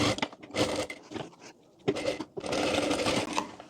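Close, loud bursts of a sewing machine stitching a co-ord set top, its rapid needle chatter coming in three runs broken by short pauses.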